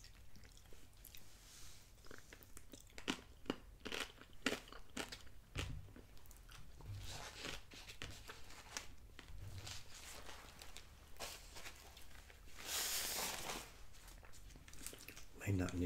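Close, wet chewing and soft crunching of Chick-fil-A chicken tortilla soup, with irregular bites and mouth sounds repeating steadily over about sixteen seconds in a quiet room.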